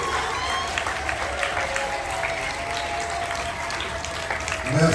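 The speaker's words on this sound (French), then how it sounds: "Applaudissez, applaudissez" A congregation at a school mass at Collège Sainte Famille in N'djili claps steadily, a dense, even wash of applause from many hands at moderate distance.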